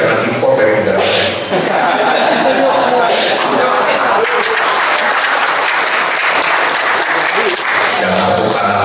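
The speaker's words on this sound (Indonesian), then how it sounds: "Jangan tepuk tangan dulu." Loud, dense audience applause fills an Islamic preaching lecture hall, steady for nearly nine seconds, with scattered chuckles and crowd murmur mixed in.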